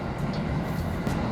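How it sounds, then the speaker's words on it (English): A regular passenger train runs through Hokkaido between Sapporo and Asahikawa, giving a steady, close, continuous rumble of railcars in motion with no voices over it. "This train is actually pretty fast for a train that doesn't pick up many passengers."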